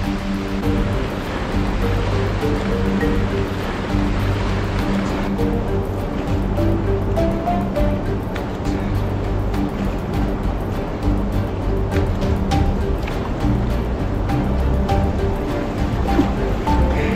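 Loud, constant rush of churning whitewater at the brink of a waterfall on a spring-flooded river, a steady roar from close by with a low rumble beneath.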